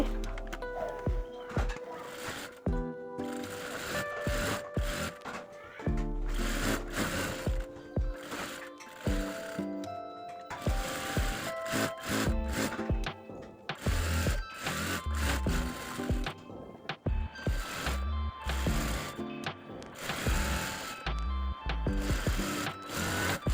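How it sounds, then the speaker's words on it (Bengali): A sewing machine stitches the side seam of a kameez in quick, rattling bursts separated by short pauses, close and clear, with no talking. "এখন আমি কামিজের সাইড দিয়ে আরেকটি সেলাই দিয়ে নিচ্ছি"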